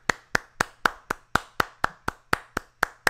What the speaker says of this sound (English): I'm going to give you a round of applause for that one.